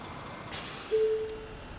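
A city bus handbrake engaging in the driving game Bus Simulator 21: a short, faint pneumatic hiss followed by a brief tonal whine from the air brake, over quiet engine idle, with no voices.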